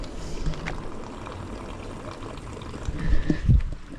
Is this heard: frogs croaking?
no